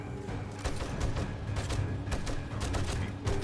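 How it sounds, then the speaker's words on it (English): Several explosions from zombies on a horde night in the video game 7 Days to Die, arriving as a few sharp, loud bursts over a constant low rumble of in-game noise. "I think I heard 3 explosions total."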